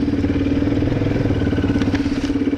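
A Viper motorcycle's engine runs with a steady, throbbing mid-pitched pulse while being ridden off-road through a forest, loud and close throughout, with slight clatter and no speech.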